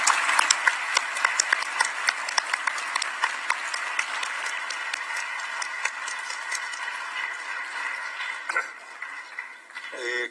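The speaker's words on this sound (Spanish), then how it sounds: "con otro aplauso para Margot Glantz" An audience at a literary event with writer Margo Glantz claps in sustained, dense applause, loud and steady at first and slowly thinning toward the end.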